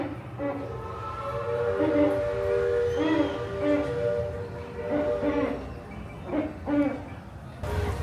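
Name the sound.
owl hooting on Tom Sawyer Island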